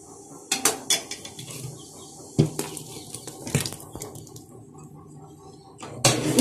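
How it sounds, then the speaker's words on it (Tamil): Urad dal is poured into boiling water in a pot and stirred, giving a string of sharp metallic scrapes and knocks from a spoon against the pot amid splashy watery sounds, close and irregular. "இந்த நேரத்தில் நம்ம உளுந்த ஊற்றி கிளறணும்"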